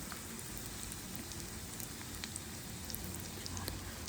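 Donut kebabs frying in hot oil over a low to medium flame, giving a steady, even sizzle and crackle, with no talk over it.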